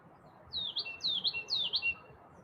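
A bird gives three quick, harsh squawks in a row, fairly close, over a low steady outdoor background hum.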